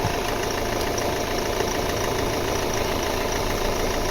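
A 2014 Peugeot 5008 engine idles steadily nearby, a low continuous rumble with a faint rhythmic knock and no speech.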